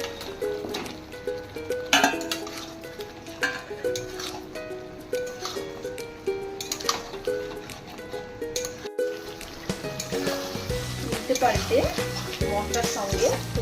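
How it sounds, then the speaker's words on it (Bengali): Pieces of chicken go into a pan of cooked-down spice masala for an Afghani chicken dish, giving a steady close sizzle and frying crackle with stirring scrapes throughout, a short pause partway, and a voice speaking faintly underneath. "মশলা থেকে তেল ছেড়ে দিলে ভেজে রাখা মাংসটা দিয়ে দেবে"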